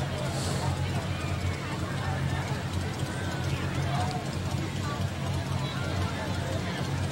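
Horses in a Mardi Gras parade clip-clop steadily amid a loud, dense crowd babble and street noise, the hoofbeats mixed into the continuous hubbub.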